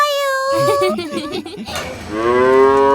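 Dairy cows moo in long, drawn-out calls on a dairy farm, one at the start and another overlapping near the end, with muffled rustling and shuffling in between.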